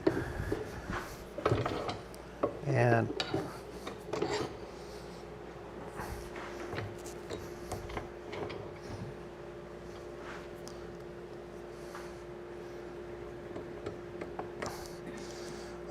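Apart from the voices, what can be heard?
spur bit being seated into wood on a lathe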